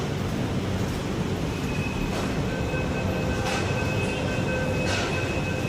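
Nagpur metro train running, a constant loud rumble of wheels and motors heard from inside the car, with faint tonal whines and occasional rattles.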